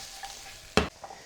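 Meat and potatoes stirred in hot frying oil: a soft background sizzle, then one sharp, loud scrape-and-splash of stirring near the end, followed by a fainter stir.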